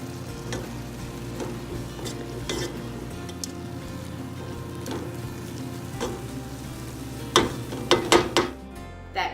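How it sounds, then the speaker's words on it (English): Spinach stuffing with cheese, breadcrumbs and olives is mixed. Scattered soft scrapes and clicks sit over a steady hiss, with a louder cluster of knocks near the end. "I've added the 3 ingredients, the cheese, the breadcrumb, and the olives. And now we're gonna mix it all up."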